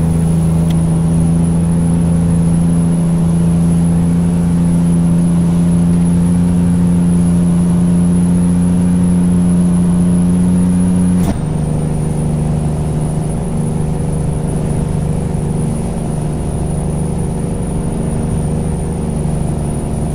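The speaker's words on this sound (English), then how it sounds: "I probably should turn down the truck sounds a little bit so you guys can hear me a little better" A steady, loud engine drone with a high whine runs continuously, briefly shifting pitch partway through, as a truck cruises in American Truck Simulator on PC.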